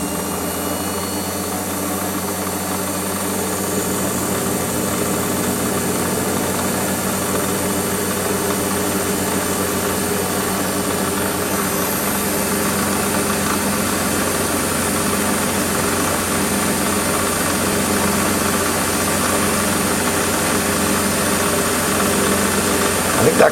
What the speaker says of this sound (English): That cutter's running at 1300 RPM.